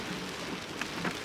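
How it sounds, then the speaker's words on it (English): Heavy rain falls during flooding weather, a dense continuous hiss of drops hitting surfaces nearby, steady throughout with no voices. "it's been flooding because it's been raining so much"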